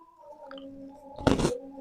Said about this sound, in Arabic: اسمعوا معايا القرمشه كده،